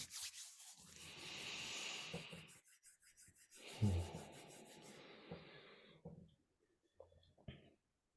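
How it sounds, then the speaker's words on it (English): Palms rubbing together in a quiet room, a soft dry swishing friction that rises and falls in a few strokes, with occasional small taps and pauses near the end. "Gently rubbing the palms together."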